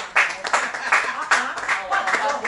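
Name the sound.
clapping by church congregation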